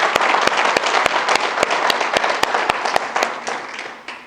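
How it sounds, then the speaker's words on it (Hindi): An audience at a company bootcamp event claps loudly together, dense close applause with a few sharp individual claps standing out, fading slightly at the end. "खुशी सर के लिए एक बार जोरदार ताली"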